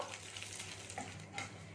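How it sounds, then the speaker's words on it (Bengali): Spices and curry leaves fry in a pan for an oil-free moong dal and semolina dish, giving a steady close sizzle with a few brief stirring scrapes and no talk. "দেখুন এখানে আমি এটা একটু ভেজে নিচ্ছি"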